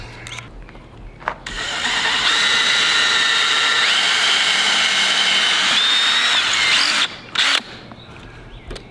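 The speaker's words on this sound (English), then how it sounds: "we're gonna go with a 3/16 drill bit." A power drill with a 3/16 drill bit bores for a homemade chicken feeder, running steadily loud for about five seconds after a short start, then stopping, with a few knocks before and after.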